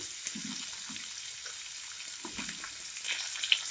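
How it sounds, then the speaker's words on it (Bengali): Drumstick (moringa) stalks fry in oil in a wok with a quiet steady sizzle and a few soft stirring bumps. "প্রথমে সজনে ডাঁটাগুলোকে ভেজে নেব, এর জন্য কড়াইতে তেল নিয়েছি।"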